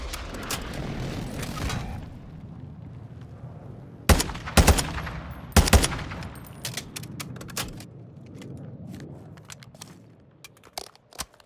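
Gunfire in the video game Call of Duty: Modern Warfare II, with sharp cracking shots in uneven clusters, some loud and close and others fainter, over a low rumbling battlefield background.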